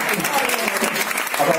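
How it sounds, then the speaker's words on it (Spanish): Audience applause at a performance by a group, a steady dense patter of clapping filling the whole moment, with voices faintly mixed in. "Aplaudiu, aplaudiu."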